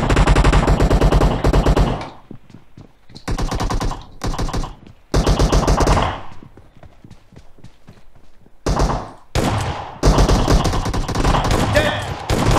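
Shotgun firing in PUBG Mobile during a team deathmatch, loud close shots in rapid clusters separated by short quiet gaps, repeating several times across the stretch.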